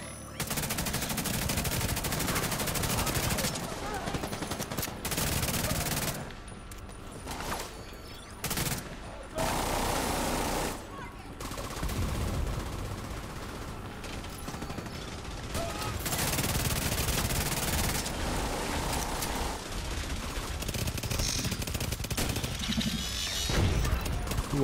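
Explosive rounds fired in a video game firefight: a dense, loud barrage of rapid gunshots and booming impacts that carries on almost without pause, with brief dips between volleys.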